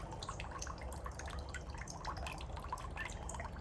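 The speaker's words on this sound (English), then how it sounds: "I just took a tub and filled it with water and found this cute little water fish. Just made a great little fountain." Water trickling and dripping steadily into a small backyard fountain made from a water-filled tub with a little fish ornament, a continuous close splashing patter with no voices.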